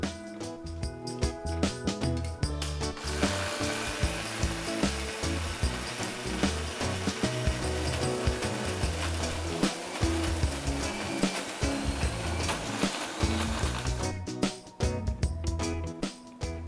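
Mixer grinder blending a horsegram ball mixture for kuzhambu, a loud, continuous motor whir and churning that starts abruptly, runs steadily for about eleven seconds, then cuts off.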